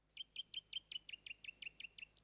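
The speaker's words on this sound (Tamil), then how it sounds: "அது பிச்சி இல்ல, வேற ஏதோ ஒரு பறவை." A cartoon bird call: a quick series of about eleven bright, evenly spaced chirps in a rhythmic run, the last one slightly higher, fairly faint and alone.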